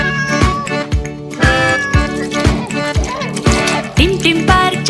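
Cartoon cat meowing within a Punjabi nursery rhyme about a monkey teasing a cat, repeated meows over a bouncy sung melody with steady backing beat.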